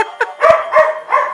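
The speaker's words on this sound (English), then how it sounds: "Whole house of little dogs." A household of small dogs yips and barks in quick, sharp bursts close by, about four loud high-pitched barks within barely over a second.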